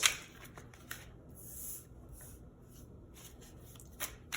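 Tarot cards are shuffled by hand in a few quick, crisp riffling bursts with short pauses between them, close and fairly quiet, with no speech.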